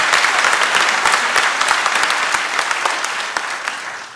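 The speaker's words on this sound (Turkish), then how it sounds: "bir alkış istiyorum" A studio audience at a Turkish comedy show claps loudly and briskly, with sharp individual claps standing out over the steady wash, tapering slightly toward the end.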